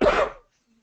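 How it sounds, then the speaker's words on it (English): A single short, loud cough from a man in a meeting, close to the microphone, fading quickly into silence. "Sorry about the cough."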